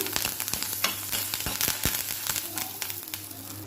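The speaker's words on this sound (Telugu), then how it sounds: "కరివేపాకు కరివేపాకు కూడా ఆ వేడి మీద బాగా వేగనిద్దాము" Curry leaves fry in hot oil with a loud, dense sizzle full of sharp crackles and pops that continue steadily throughout, with no voices.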